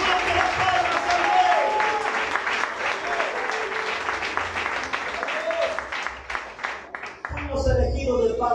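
A church congregation applauds loudly through an evangelical worship service. The clapping is dense and sustained for about seven seconds, mixed with crowd voices, then breaks off.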